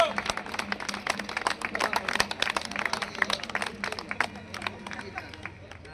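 Crowd clapping at a village-level cricket tournament in Palakurthi mandal, brisk irregular hand claps from a nearby group that gradually thin out, with a voice speaking over them.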